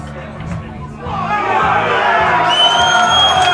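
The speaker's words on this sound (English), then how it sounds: "that's enough to ignite the crowd" Spectators at a £180,000 pool money match erupt after a shot, a crowd noise rising from low murmuring into loud cheering, whoops and shouts that keep building.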